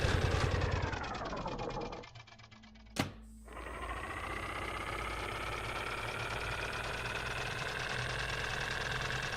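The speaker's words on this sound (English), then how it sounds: "When the starter motor has stabilized, press engine start." A video-game engine in Escape Memoirs: a starter motor whines and winds down, a sharp click marks the engine start, then the engine settles into a steady mid-pitched running hum with a fast rhythmic chatter. No voices.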